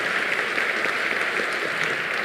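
An audience at an awards ceremony applauds, a dense, steady round of clapping from many hands that holds at a loud level throughout.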